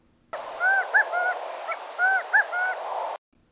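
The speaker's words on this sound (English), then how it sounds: "Gambel's quail have a distinctive 3- or 4-syllable call that sounds like Chicago" Gambel's quail calling in the desert, a handful of loud, clear multi-syllable calls with a short pause midway, set against a steady hiss.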